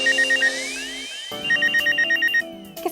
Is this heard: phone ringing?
yes